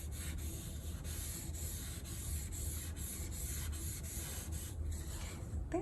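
Pencil shading is blended on paper with a soft, steady rubbing hiss, close and quiet, with faint rhythmic strokes and no speech.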